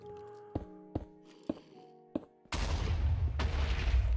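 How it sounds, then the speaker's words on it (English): An explosion in the video game Minecraft, in a hostile cave map, heard as a sudden loud burst of rumbling noise after a few sharp taps, then sustained roaring debris noise with a second surge. "Well, there goes another explosion."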